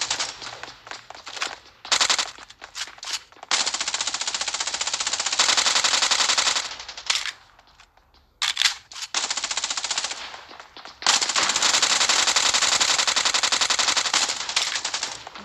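Rapid automatic gunfire from a mobile battle game, long loud bursts broken by short pauses, with bursts stopping and starting over about fifteen seconds and no talk.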